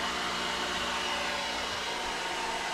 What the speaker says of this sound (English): let's turn this hairdryer off first